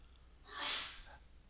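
A single sneeze from a nearby person, a sharp burst of breathy noise swelling and fading within about a second, with no talking around it.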